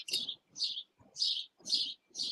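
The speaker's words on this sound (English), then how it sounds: "I like your background noise. Oh, the birds." Birds chirp outdoors in five bright, separate bursts of quick tweets, fairly close and clear against an otherwise quiet background.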